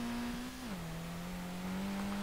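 Nissan R32 engine drifting in SLRR, holding a steady loud drone that dips slightly in pitch partway and then stays level, continuous and up close.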